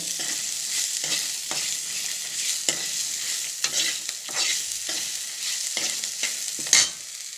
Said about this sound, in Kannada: ಈಗ ಅದಕ್ಕೆ ಒಂದು ಮೀಡಿಯಮ್ ಸೈಜ್ದು ಈರುಳ್ಳಿನ ಹಾಕಿ ಫ್ರೈ ಮಾಡ್ತಾಯಿದ್ದೀನಿ